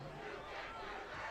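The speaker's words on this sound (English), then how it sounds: "See how the Seaholm crowd loved that one." Home football crowd at a Birmingham Seaholm high school game roaring and cheering in a steady, dense wash of voices from the stands, loud and continuous with no clear break.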